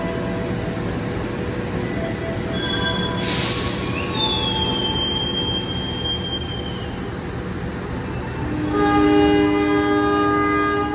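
A passenger train rumbles steadily nearby, a brief hiss, then a long thin squeal of wheels and a rising hum as it gets moving.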